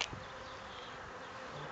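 Honey bees buzz steadily around the hive entrance as foragers return, a dense, continuous close-up drone with no voices.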